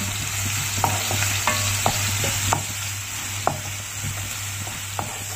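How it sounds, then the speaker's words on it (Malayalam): Cut green chillies sauté in a pan alongside tilapia, a constant oily sizzle broken by light clinks of a spoon or spatula stirring at irregular intervals, close up with no talking. "കട്ട് ചെയ്ത് വെച്ചിരിക്കുന്ന പച്ചമുളകും കൂടെ ഒന്ന് ചേർത്ത് കൊടുക്കാം. എന്നിട്ട് കുറച്ച് സമയം ഒന്ന് വഴറ്റി കൊടുക്കാം."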